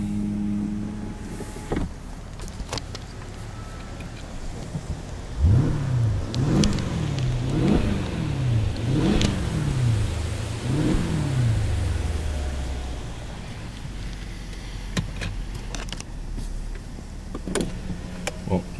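A 2009 Mercedes-Benz S550 engine revs several times in quick succession, each rise and fall of its pitch audible as a rhythmic series of swells, faint under steady outdoor ambience by a lake, with scattered clicks before and after.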